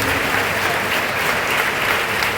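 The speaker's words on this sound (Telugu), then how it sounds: "గట్టిగా చప్పట్లు కొడదాం ఇంకోసారి దేవునికి" Church congregation at Gudivada RCM Church claps loudly and continuously for God, a dense close burst of applause filling the whole moment.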